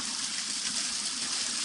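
Steady, dense rush of water from an unnamed waterfall in the Fosso della Calandrina gorge near Trevignano Romano, continuous and close with no voices.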